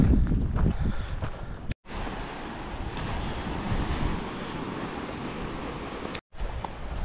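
Sea surf rolls onto a wild beach at high tide, a constant loud rushing wash heavily mixed with gusty wind buffeting the microphone, with two brief dropouts.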